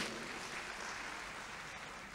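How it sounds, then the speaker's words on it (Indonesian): A church congregation claps during a Sunday sermon, a soft, even wash of applause that sounds distant and continues steadily throughout. "Beri tepuk tangan yang luar biasa."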